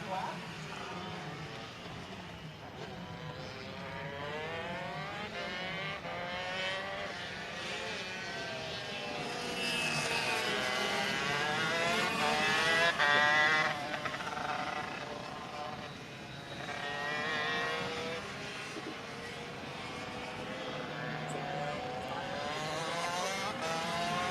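125cc shifter karts, Master ROK and Limited classes, racing on a wet track at Sonoma: engine drone rising and falling steadily across the clip, the whine of several karts sweeping past, with a commentator talking over it throughout.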